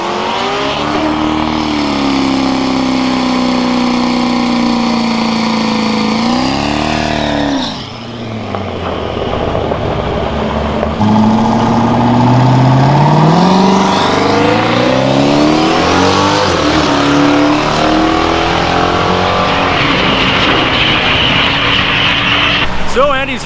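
Firebird race car making a drag run at a drag racing event, its engine roaring loud and close, rising through the gears, easing briefly, then surging again with a sustained high-revving howl.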